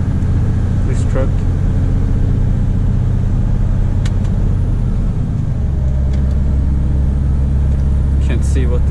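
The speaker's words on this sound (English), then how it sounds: "As you guys can tell, it's got perfectly normal amount of power" A Mercedes Actros truck engine pulls under power as a steady low rumble from inside the cab, with a short shift in tone midway and someone talking over it throughout.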